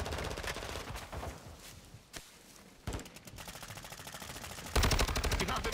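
Rapid gunfire from an STB 556 rifle and an MP7 in a video game: dense, loud automatic bursts that fill most of the clip, with a brief lull in the middle before the firing resumes harder.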